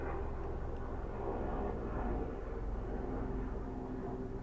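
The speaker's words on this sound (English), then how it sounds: "there's a plane going over." A plane passes overhead as a low, steady, rumbling drone, fairly faint and distant. It holds a constant broad roar for several seconds with no voices heard.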